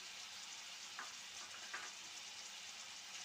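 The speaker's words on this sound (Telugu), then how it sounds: "ఆనియన్, పచ్చిమిర్చి 2 నిమిషాలు బాగా ఫ్రై చేసుకోవాలి." Onions and green chilies frying in a pan make a steady, faint sizzle with a couple of brief stirring scrapes, close by and quiet, with no talking.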